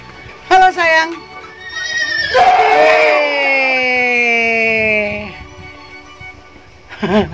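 A pony at a mini zoo gives a long, loud whinny that rises then trails off over several seconds, framed by short voiced snorts or calls close by.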